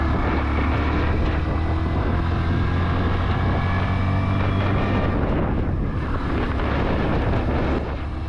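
A Bajaj Platina 100cc motorcycle ridden at higher RPM, its small engine droning steadily under heavy wind rush for several seconds, close and loud throughout.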